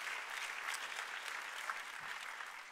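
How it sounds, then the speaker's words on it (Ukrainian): A church congregation applauds, a dense and steady clapping that fills the space for several seconds at an even level. Nobody speaks over it. "Ці аплодисменти во ім'я Господа для вас."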